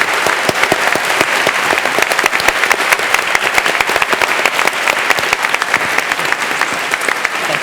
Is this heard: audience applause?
yes